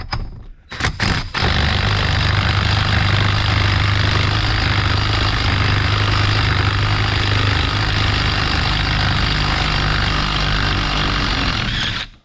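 An impact wrench works loose the power steering pump pulley on a 2004 Dodge Ram Cummins, a few short bursts followed by a long, loud continuous hammering whir close by that stops abruptly at the end.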